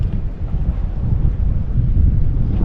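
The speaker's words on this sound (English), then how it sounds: "it's a kind of a windy day, so there's a lot of wind and current" Heavy wind buffets the microphone in a continuous low rumble, with no voices.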